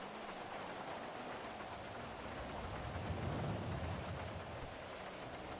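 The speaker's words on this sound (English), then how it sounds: "the rain is so loud." Video game rain in GTA V on the NoPixel server, a steady dense hiss of falling rain with a faint low rumble swelling midway, fairly quiet and with no talk.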